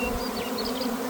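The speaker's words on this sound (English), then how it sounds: "I'm gonna shake these bees down one more time out of the tree and down to the box" A swarm of honeybees shaken from a tree fills the air with a close, steady, droning buzz, with individual bees whining past now and then, and no one speaking.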